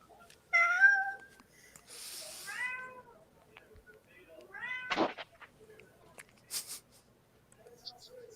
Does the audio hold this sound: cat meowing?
yes